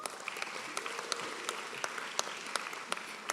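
Steady applause from a seated audience at a graduation ceremony for education and psychology graduates, a dense, even patter of many hands clapping continuously with sharper individual claps popping out, fairly distant and without voices.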